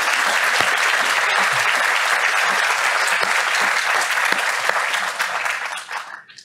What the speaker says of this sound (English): I would like to start with an applause for all of you.